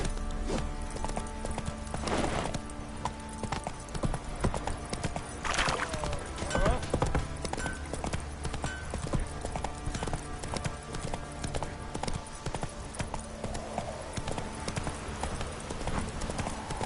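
Roach the horse's hooves clip-clop steadily in a PS4 game, an even walking rhythm with an occasional whinny, mixed with game sounds and some talk.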